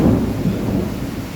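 Heavy night rain pours in Haldwani with low rolling thunder, a dense steady rumble and hiss filling the space, loud and close, with no one talking.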